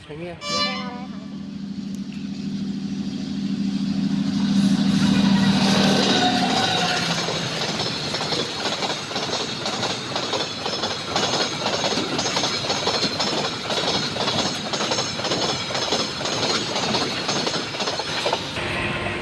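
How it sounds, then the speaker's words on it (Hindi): A train passes a road crossing, opening with a loud horn blast, then a long steady rumble and rhythmic clickety-clack of wagons rolling by close at hand, while people talk over it. "ट्रेन आ रहा है"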